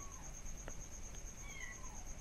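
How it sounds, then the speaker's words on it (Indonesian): A faint, brief meow rises over a steady high electrical whine and background hiss, with no voices. "Ada suara kucing, teman-teman."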